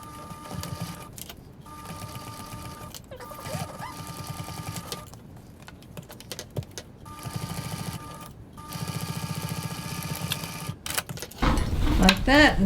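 A domestic sewing machine stitches a sling bag's pocket closed near the edge at a 3.2 stitch length, running in several steady bursts separated by short pauses, with someone talking intermittently and louder handling at the end.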